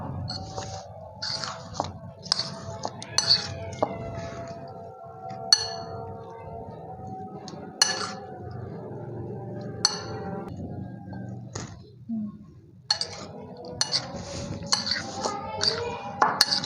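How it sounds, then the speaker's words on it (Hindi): A spoon stirs daal chana chaat in a bowl with repeated light clinks and scrapes against the dish, close and intermittent, while someone speaks over it. "अब इसको अच्छी तरीके से मिक्स कर लें।"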